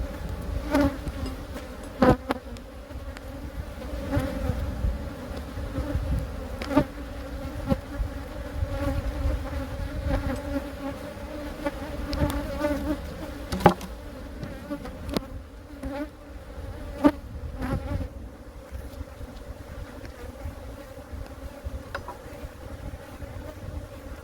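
Honeybees swarm in dense, continuous buzzing around an open hive during an inspection, the drone steady and close with individual bees zipping past the microphone now and then.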